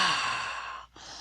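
A narrator telling the three little pigs story gives one long, loud, breathy blow imitating the wolf huffing at the house, then a brief catch of breath.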